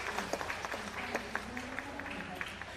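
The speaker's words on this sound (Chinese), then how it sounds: "好，最后掌声，掌声，掌声，掌声。" Audience applause at a national elementary-school diabolo championship, a steady wash of clapping with scattered sharper claps, moderately loud throughout, with a faint voice underneath.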